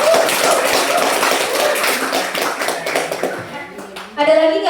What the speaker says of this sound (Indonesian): tepuk tangan dulu Mas Rian.